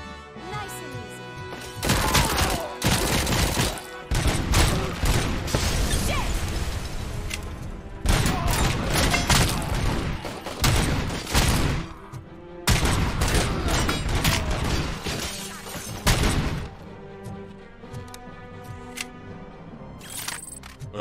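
Rapid bursts of video game gunfire and grenade explosions, loud and dense with brief gaps, continuing through most of the stretch.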